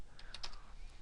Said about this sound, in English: I'm going to use the Alt keyboard shortcuts.